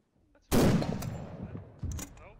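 A mortar round is fired in the military video game ArmA III, a sharp loud boom that decays with a rumbling tail, followed by a second, smaller distant thud about a second and a half later.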